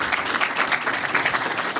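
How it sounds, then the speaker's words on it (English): An audience gives a panel a big round of applause after a morning session, a loud, dense and continuous burst of clapping from many people with no talk over it. "let's give a big round of applause to our panel"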